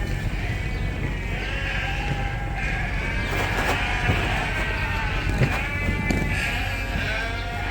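Ewes that recently had fall lambs bleat steadily and loudly close by on a sheep farm, with several overlapping calls over a continuous low rumble.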